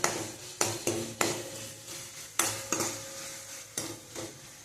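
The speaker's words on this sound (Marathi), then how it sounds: "बारीक गॅसवरती परतून घ्यायचं, नाही तर ते मोठ्या गॅसवरती सगळं करपून जाते" Masala being sautéed on a low flame in a pan for drumstick (moringa pod) amti, with a soft sizzle beneath repeated sharp scrapes and clinks of a spoon against the metal pan, about seven strikes spaced irregularly.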